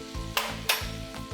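Plain white flour stirred into melted butter in a pan to start a white sauce, giving soft scraping sweeps with a faint sizzle and a few louder spoon strokes, close and alone.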